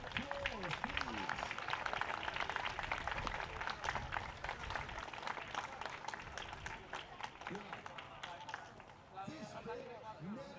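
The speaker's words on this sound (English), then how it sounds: "give your families a round of applause, please" A crowd of families at a karting race event applauds in sustained, dense clapping throughout, fairly distant and faint, with some voices talking over it toward the end.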